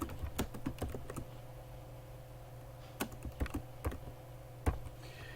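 Scattered clicks from a computer keyboard as text is typed into a Prezi presentation, bursts of close taps separated by quiet pauses over a low steady hum.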